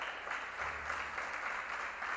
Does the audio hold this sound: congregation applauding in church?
yes